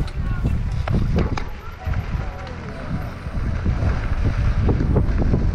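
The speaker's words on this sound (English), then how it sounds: "what is that wind?" Strong wind buffets the microphone at a mountain bike park in Big Bear, a loud, continuous low roar with gusts that swell and ease, while riders talk over it.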